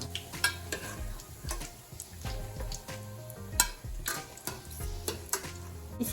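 Potato cheese balls fry in oil over medium-high heat, a soft sizzle under frequent clanks and scrapes of a utensil against the pan, close and uneven, with no voices.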